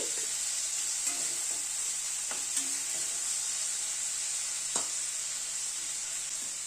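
Spices and tomato frying in a pan with salt, a steady close hiss throughout with a few faint scrapes of stirring and no talk.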